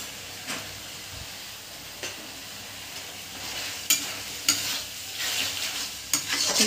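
Cashews fry in butter in a pan with a soft, continuous sizzle, broken by periodic scraping strokes of stirring that grow more frequent and louder toward the end.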